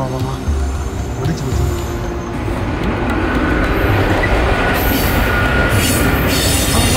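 A train rumbles past loudly and close, a heavy continuous roar of wheels on rails with occasional metallic squeals, building slightly as it goes by.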